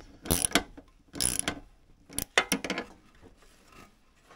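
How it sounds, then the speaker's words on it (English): Ratchet wrench clicking in quick bursts while tightening hose clamps on a diesel heater's fuel line, several close, loud runs of ratcheting with pauses between them and no talk. "I like to use a ratchet on these so I know that I get them tight."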